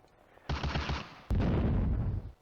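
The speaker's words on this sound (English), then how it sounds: "Near miss by adjusting artillery." An artillery shell lands as a near miss in a World War II Eastern Front combat game: a rumbling blast erupts, then a second, louder explosion slams in close and rolls on heavily to the end.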